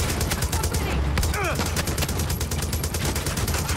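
Armor-piercing rounds fired in the video game Far Cry 6, rapid bursts of gunfire crackling in a dense, continuous volley with no clear gaps, loud and close.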